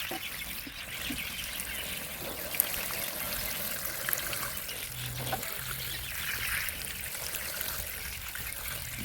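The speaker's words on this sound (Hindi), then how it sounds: "अब देते हैं पानी प्लांटों में। और मैं पानी भर के ही दूंगा इन प्लांटों को।" Water is poured into adenium plant pots and trickles and splashes steadily through the whole stretch, soft and close, with faint background noise and no talking.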